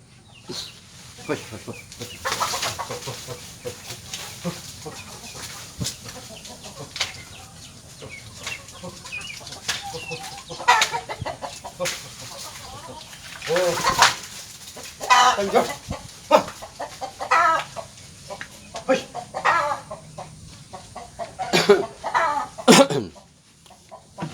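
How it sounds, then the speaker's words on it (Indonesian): Chickens cluck and squawk close by as they are shooed off rice grain drying in the sun. Their irregular bursts rise and fall over a steady outdoor background, with no talking. "Saya usir ayam dulu karena saya menjemur gabah."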